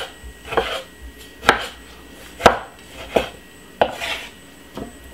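A knife chops through a tomato on a cutting board, a series of about six sharp, separate thuds at uneven intervals. The knocks are close and clear with nothing else around them.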